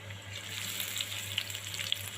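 Onions fry in mustard oil for a Chittagong-style kala bhuna, a quiet steady sizzle with faint crackles and small pops, heard alone at low volume.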